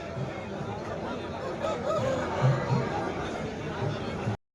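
A rooster crows at a distance amid a murmur of people chatting and a general outdoor crowd din at the weekly Sunday poultry market in Pileru.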